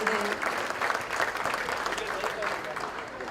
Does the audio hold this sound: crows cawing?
no